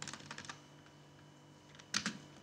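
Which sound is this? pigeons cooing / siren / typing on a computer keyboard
typing on a computer keyboard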